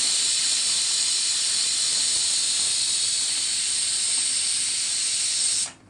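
A pressure cooker cooking chana dal lets off a loud, continuous high hiss of escaping steam that holds steady for several seconds before cutting off abruptly.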